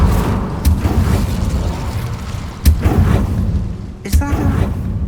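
Confringo blasting spells from Hogwarts Legacy go off in three sharp booming bursts spaced across the clip, each a loud broadband crack over a steady rumbling game backdrop.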